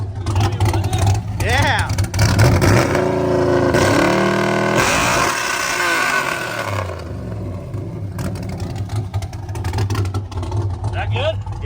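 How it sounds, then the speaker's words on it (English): A loud Cadillac with a newly built custom exhaust revs hard, its close engine roaring and rising in pitch through repeated pulls, with people talking briefly over it. "give her some revs"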